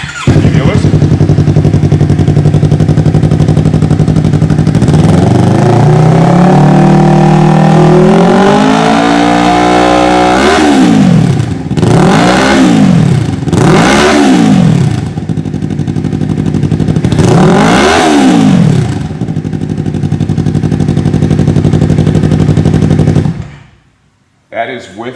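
A warmed-up 2015-2017 Yamaha R3 motorcycle engine with an M4 Street Slayer carbon slip-on exhaust, insert in, idles, then revs up in several sharp, loud bursts that rise and fall, ending with a sudden cutoff.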